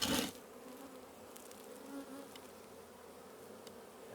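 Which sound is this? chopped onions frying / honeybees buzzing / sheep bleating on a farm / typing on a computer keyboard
honeybees buzzing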